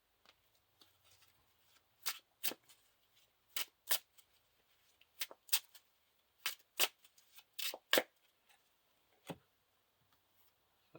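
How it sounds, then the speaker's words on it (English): A deck of encounter cards for a Lord of the Rings card game is shuffled in repeated bursts, sharp riffling rustles and snaps arriving in uneven clusters, close and fairly quiet, with no talking. "Shuffle the encounter deck."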